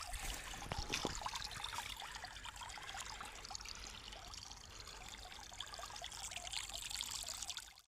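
Irrigation water flows across a farm field, a steady broad rushing trickle that runs without a break from start to finish at an even, fairly close level.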